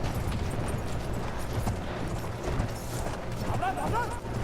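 Horse galloping in Battlefield 1, a quick drumming of hooves under battlefield rumble and distant blasts, with a person talking over it.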